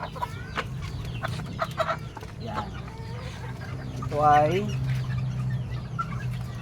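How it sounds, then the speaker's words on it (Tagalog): Young Boston roundhead cross chickens, bred from a Boston brown red hen, cluck and call in a farmyard, with bursts of clucking and one louder squawking call mid-clip over a low background hum while someone talks. "Boston roundhead cross sa Boston brown red na hen"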